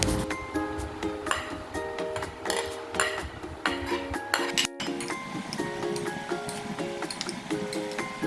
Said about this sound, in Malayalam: ഒരു ബൗളിലേക്ക് കട്ട് ചെയ്ത് വെച്ച മാങ്ങ, തക്കാളി, കുക്കുംബർ, മല്ലിയില, ഉള്ളി ഇട്ടിട്ട് ഒന്ന് മിക്സ് ചെയ്തെടുക്കാം.